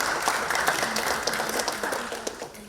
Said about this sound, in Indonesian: Untuk itu, tepuk tangan dulu untuk tim MKWK ISBI Bandung.